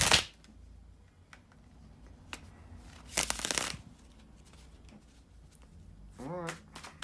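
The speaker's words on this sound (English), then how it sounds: "to shuffle the cards" Tarot cards riffle and snap together in a few short bursts, close by, with quiet rustling and handling noises between them.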